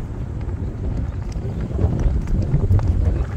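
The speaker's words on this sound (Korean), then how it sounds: "바람" Wind buffets the microphone on a Jeju golf course, the Everis CC Pine course, as a steady low rumble with gusts that strengthen toward the end. No one speaks.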